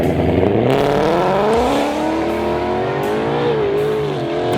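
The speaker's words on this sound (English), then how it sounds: "the fastest record-holding 2020 Shelby GT500, getting ready to do another pass" A 2020 Shelby GT500 roars loudly and steadily on a drag pass, its engine pitch climbing through the run with a continuous close, powerful tone.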